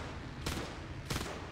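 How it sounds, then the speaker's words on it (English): Machine-gun fire in a video game: two short, sharp bursts about half a second apart, loud and close, over a steady background hum. "Yeah, machine guns."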